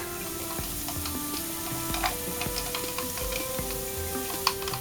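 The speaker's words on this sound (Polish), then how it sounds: "I smażymy dalej razem z porem i cebulą jeszcze około 3 minut" Steady sizzling of garlic, leek and onion frying in a pan, with occasional ticks and clinks of a utensil stirring, close and continuous without talk.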